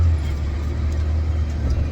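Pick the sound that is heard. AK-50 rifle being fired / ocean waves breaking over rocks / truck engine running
truck engine running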